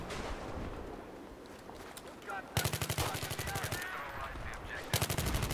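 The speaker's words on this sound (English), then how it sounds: "He even tried to shoot me." Rapid automatic gunfire in a war video game set in Alborz, two loud bursts of machine-gun rattle close by, following a quieter stretch of ambient battlefield noise.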